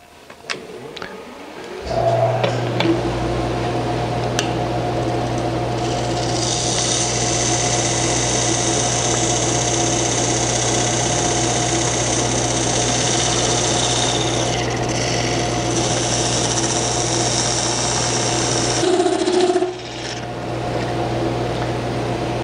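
A lathe turns a tenon on a cast resin bowl hemisphere, holding a steady motor drone while the gouge adds a bright, continuous scraping hiss for most of the run before the cutting briefly stops near the end.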